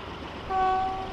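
Class 101 diesel multiple unit in the Transport Fever game, heard as a steady rumbling run with a sustained horn-like tone swelling in midway and holding to the end, fairly loud and alone.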